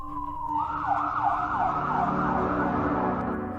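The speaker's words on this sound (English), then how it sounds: "Sheetal called the ambulance and took Shamir to the hospital." An ambulance siren wails loudly and steadily, its tone rising then warbling back and forth over a low engine rumble.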